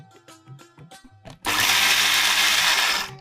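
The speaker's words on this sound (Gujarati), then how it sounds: "હવે આ બધી વસ્તુને આપણે ક્રશ કરી લઈએ." An electric kitchen grinder crushing dry chillies and spices switches on after a moment of quiet clatter, then whirs loud and steady for over a second before cutting out.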